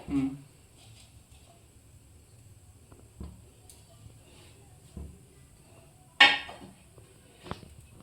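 A metal wok (karai) set down on a stove: a few separate clanks and knocks spaced over several seconds, with the loudest sharp clang near the end, against a quiet kitchen background.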